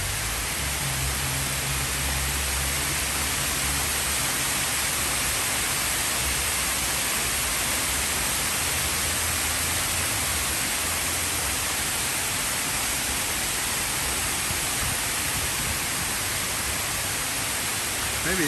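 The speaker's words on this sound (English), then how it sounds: "But the waterfall is pretty." Rushing water of a city waterfall in downtown Lexington during a summer rain, a dense, steady, loud hiss with no letup, light rain mixed into the roar.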